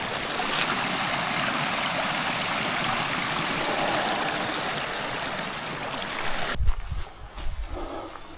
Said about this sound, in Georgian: ასე მოედინება წყალი.